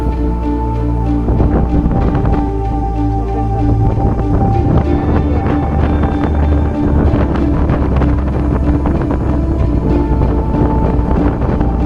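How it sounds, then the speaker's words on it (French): Strong storm wind buffets the microphone on the ocean-side mountains at Stokksnes, a loud, continuous roar and rumble with gusty surges throughout, no voices. "On va se mettre à l'abri de la tempête de vent."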